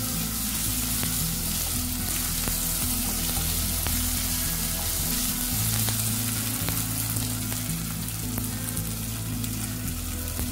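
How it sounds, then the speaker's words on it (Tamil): Onion sautéed with ginger garlic paste in a pan for chickpea coconut milk rice sizzles loudly and steadily throughout, with a constant frying hiss and occasional stirring scrapes, and no talking. "ஒரு ஸ்பூன் இஞ்சி பூண்டு பேஸ்ட் சேர்த்து நல்லா வதக்கிக்கலாம்."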